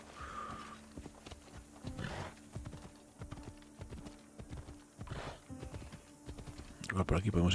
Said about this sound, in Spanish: Mira un caballo.